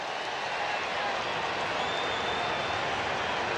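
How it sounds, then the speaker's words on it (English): Stadium crowd noise at a Blue Jays versus Mariners baseball game with the bases loaded, a steady broad roar and murmur of thousands of fans, continuous and fairly loud throughout. "you can hear the crowd."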